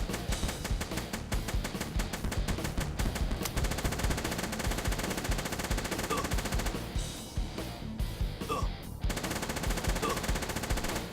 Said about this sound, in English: Laser minigun, thank goodness.